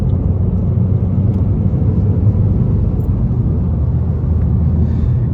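A Renault Mégane accelerates on a wet road, a loud, steady engine drone and tyre rumble heard from inside the car, filling the whole moment without voices.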